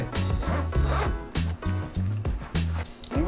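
A zipper on a Porter X-Pac three-way Boston bag is run back and forth in about seven quick, loud, close strokes with brief pauses between them. There is no speech.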